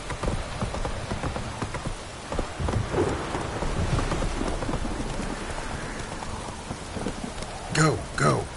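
Rain falls steadily in The Witcher 3 with a low rumble of thunder underneath, and hoofbeats clop through the downpour. Near the end a voice speaks briefly over the weather.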